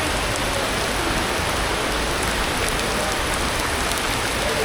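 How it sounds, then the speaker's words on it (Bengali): Rain falls steadily at night over the Bangla Academy grounds, a constant dense hiss of drops on surfaces with no breaks, fairly loud and close, with no voices. "ফোটায় ফোটায় বৃষ্টি পড়তেছে"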